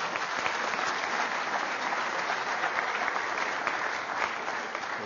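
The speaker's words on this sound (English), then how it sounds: "Let's give our volunteers a nice round of applause." Dense, steady applause from a theater audience welcoming volunteers onstage at a live math-magic show; loud and continuous for the whole stretch without a break.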